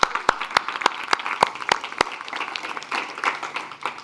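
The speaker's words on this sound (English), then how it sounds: "A big applause for Elisa." Audience applause at a youth dialogue event on climate adaptation, opening with several sharp, evenly spaced claps close by that blend into a steadier crowd clapping.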